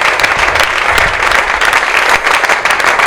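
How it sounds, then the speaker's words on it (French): Loud, steady applause from an audience greeting a comedian's entrance at a Lubumbashi comedy show, dense clapping sustained throughout with no voices over it. "nous demandons au public de pouvoir encore applaudir très fort lorsqu'il fait son entrée"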